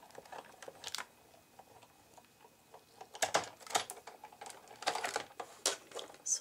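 Soft irregular clicking and ratcheting from a hand-cranked manual die cutting machine, with quiet stretches and then busier bursts of mechanical clatter, heard close and fairly faint.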